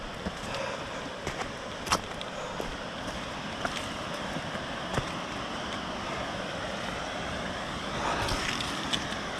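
Steady broadband rush of a river flowing beside a forest hiking trail near a fallen tree, a continuous moderate wash with occasional sharp clicks and footstep-like knocks on top.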